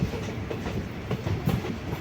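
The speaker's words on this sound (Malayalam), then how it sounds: "45 രൂപയുടെ ടിക്കറ്റും എടുത്ത് സ്ലീപ്പർ ക്ലാസ് യാത്ര ചെയ്യുവാണേ" Sleeper class coach of the Nagercoil Intercity Special rolling along the track, a steady close rumble broken by rhythmic wheel clatter over rail joints, with no voices.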